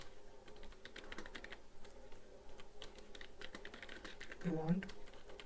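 Rapid, irregular clicking of computer keys runs through the whole clip, fairly close, with a brief louder burst of keystrokes near the end.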